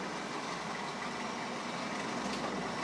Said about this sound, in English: A car has just decided to stop just over there with a noisy engine.